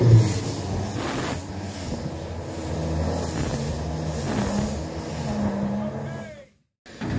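A diesel locomotive engine being cranked over on a cold start after a radiator change, with a steady churning mechanical drone at close range that drops to near silence briefly before resuming; a voice speaks faintly beneath it.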